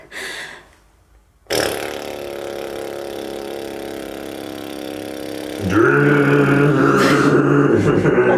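A voice imitates a tractor with a sustained lip trill during a vocal breathing lesson: a brief breath, a pause, then a long buzzing rumble that grows louder and rougher toward the end.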